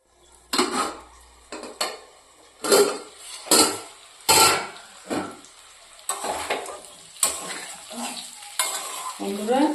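Young green bananas frying in a pan, stirred with a utensil in repeated scraping strokes and metallic clinks against the pan over a low sizzle, close and rhythmic, no talking.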